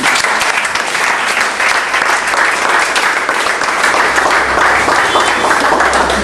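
Dense, loud applause from a crowd at a religious gathering, continuous clapping filling the whole stretch with no break.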